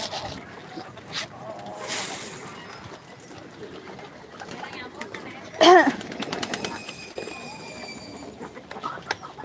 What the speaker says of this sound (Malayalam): പ്രാവ് താറാവ് എല്ലാം ഫുഡ് കഴിക്കുന്നുണ്ട് കാണാം